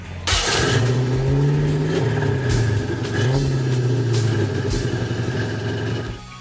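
A classic Ford fitted with a 330-horsepower Chevrolet engine cranks, fires up and revs loudly and close, with rising and falling throttle blips before cutting off, at a street rod event in Kansas.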